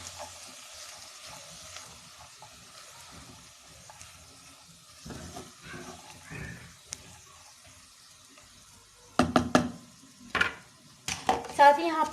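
Cabbage and mixed vegetables, with corn added, are tossed in a pan for a hot and sour soup. A faint sizzle runs underneath while utensils clatter against the pan in sharp bursts that grow louder toward the end.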